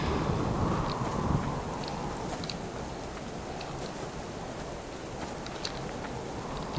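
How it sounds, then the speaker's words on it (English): Steady, heavy rain hisses in the survival video game Subsistence, a dense, constant wash of falling drops with a slightly louder gust near the start and no talking. "but rain's still going"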